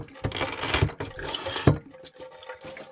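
Water runs and splashes briefly aboard the sailboat Wave Rover, a short close gush from a tap, fairly quiet, with no talk.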